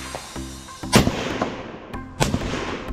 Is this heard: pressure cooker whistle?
no